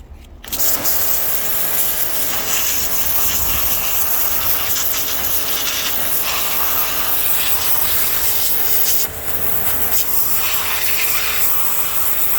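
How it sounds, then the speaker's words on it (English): A handheld pressure washer with a 0 degree nozzle blasts old grease off a Komatsu FG25 forklift, making a loud, steady, close hiss and roar that continues almost without a break. "We'll hit it with the 0 degree nozzle and see what we see when we get it clean."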